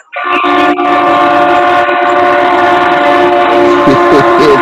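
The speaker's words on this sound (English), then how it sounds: "Y'all got the trains jumping around" A train passes near Fair Park, sounding a loud, sustained multi-tone horn right up close that holds for several seconds over the rolling rumble of the railcars, with no talking.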